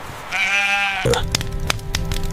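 Sheep or goats bleat once, a single drawn-out livestock call lasting under a second, followed by a busy stretch of clattering farmyard noise and scattered knocks.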